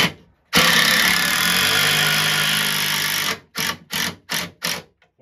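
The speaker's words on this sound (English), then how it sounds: "Now we are going to screw the 2 2x4s on first." Power drill driving screws through 2x4 boards into a wooden arcade cabinet during a Neo Geo restoration: one long loud whirring run, then four short bursts as the screws seat, close and without talk.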